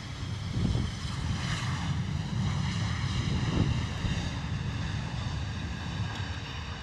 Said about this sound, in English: not much noise from that little private jet